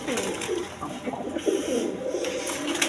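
Pigeons cooing inside a cage, repeated soft throaty coos close by over a constant background murmur, with no one speaking.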